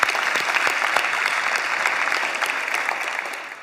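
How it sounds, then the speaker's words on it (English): Warm applause from a church event audience, a steady patter of many hands clapping nearby that holds evenly and tapers off slightly toward the end. "How about a warm round of applause for these guys, huh?"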